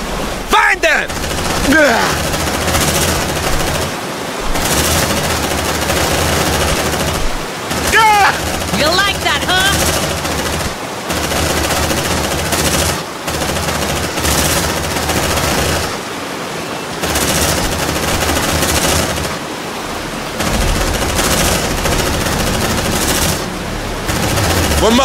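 Sustained machine gun fire in Aliens: Dark Descent rattles loud and dense in long bursts, broken by brief pauses, with shouted voices mixed into the chaotic firefight.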